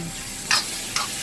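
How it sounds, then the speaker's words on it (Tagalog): Stewed chicken feet stirred in a pan, with two quick scraping strokes over a steady low sizzle. "haluin po ng maayos"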